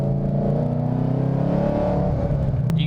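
A lowered 2013 Ford Mustang GT with the 5.0 V8 on E85 fuel accelerates hard, its engine note rising in pitch as a loud, steady roar heard from inside the car.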